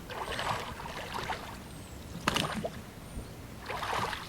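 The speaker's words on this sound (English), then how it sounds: "One man unmoors his boat and rows away, barely rippling the tranquil waters." Gentle oar strokes dip and splash softly in calm water, a slow rhythmic paddling with faint trickles between strokes.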